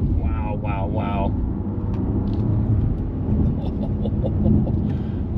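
Subdued engine and road rumble from a BMW 550e xDrive plug-in hybrid being driven hard, a steady low drone inside the cabin with someone speaking over it at the start.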